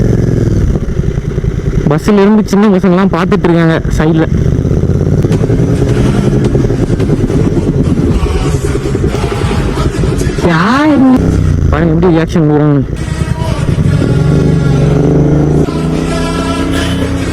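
A Royal Enfield GT650 motorcycle with a loud aftermarket exhaust rides along, revving up and down repeatedly while someone talks over it throughout.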